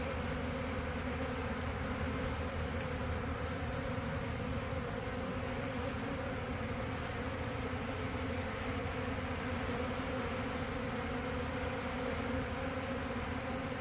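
Steady, dense buzzing of many honeybees swarming around a hive stocked with supplies, in a shed in Lakeland, Florida, continuous and fairly close for the whole stretch with no talking.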